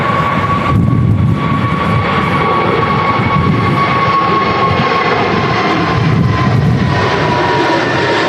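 Jet airliner engines of an EasyJet plane at Manchester Airport during a stormy crosswind day give a loud, steady roar with a whining tone that holds throughout, no voices over it.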